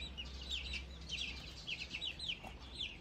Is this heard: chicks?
yes